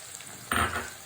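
Chili powder is tipped into hot oil in a pan, with the heat off, for mango pickle; a faint background hiss suddenly swells into a short, loud sizzle that fades within half a second.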